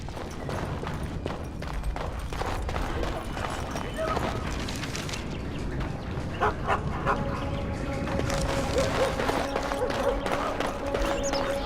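A dog in the video game Dragon Age: Origins barks several times amid busy game ambience and clopping, with character dialogue running over it.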